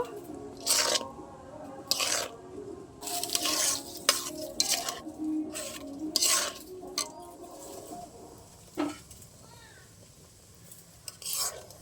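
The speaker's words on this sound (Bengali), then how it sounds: "সব একসাথে ভালো করে মিশিয়ে নেব।" Spoon stirring a mixture of palm fruit pulp and boiled milk in a bowl, with intermittent scraping strokes in bursts, fairly close and moderate in loudness, no talking.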